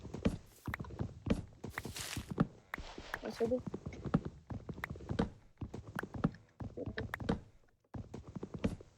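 A video game horse walks with steady clip-clop hoof steps, close and rhythmic, under ongoing talk between players.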